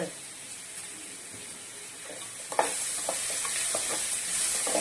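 Turmeric and asafoetida being stirred in a pan for pori upma: a quiet, close scrape and rustle that swells into a steady bright sizzle, with a few clicks of the spoon and no talking.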